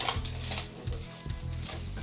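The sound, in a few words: chicken being stirred while frying in a pan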